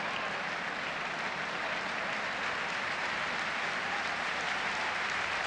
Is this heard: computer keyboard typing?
no